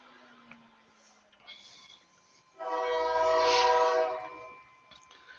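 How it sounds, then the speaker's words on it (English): A train horn sounds for a couple of seconds in the distance, a broad harmonic blare rising and fading over a low rumble. "I don't know if you can hear the trains in the background."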